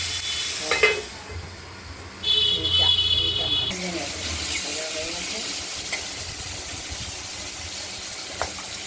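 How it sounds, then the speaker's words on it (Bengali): Rithe fish frying in hot oil in a pan, a steady soft sizzle with brief stirring clatter and a short bright hiss, while a person speaks over it. "মাছগুলো দুটোর দিকে হালকা ভাজা হয়ে গেছে।"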